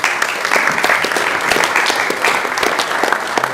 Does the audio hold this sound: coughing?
no